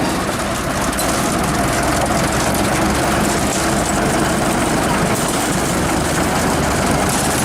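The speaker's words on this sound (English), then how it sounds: "The small Orenstein and Koppel diesel will be used to haul empty wagons into" A small Orenstein and Koppel diesel locomotive at a Java sugar mill yard idles and runs with a loud, constant low engine drone and broadband roar throughout, with no voices.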